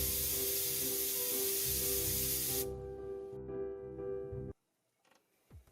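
Airbrush spraying VMS Hull Tex Air anti-slip texturing liquid onto a Stryker model at 50-60 psi: a loud, steady close hiss that cuts off sharply, leaving faint handling clicks and light rustle after it.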